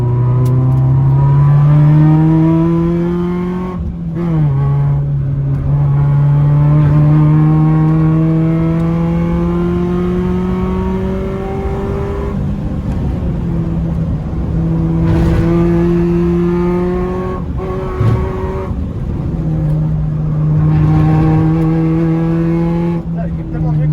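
A Peugeot 206 S16 engine revs hard and accelerates through repeated gear pulls, loud and close, with rising and falling engine tones and brief shifts between them.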